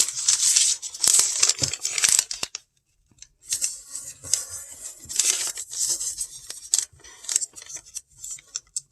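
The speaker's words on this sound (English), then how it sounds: "now you're gonna fold this into eighths" Sheet of paper folded repeatedly along creases into eighths, giving close, crisp crinkling and sharp creasing rustles in bursts with a brief pause.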